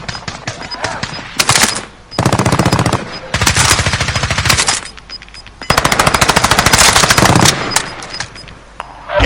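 Loud bursts of automatic gunfire from a battle royale video game, several long rapid-fire volleys separated by short pauses, close and dominant, with faint talk between them.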